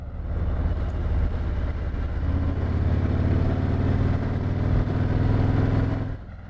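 A motorcycle on new tires leans through a corner, its engine a loud, steady close drone under heavy wind rumble, rising slightly in pitch before easing off at the end.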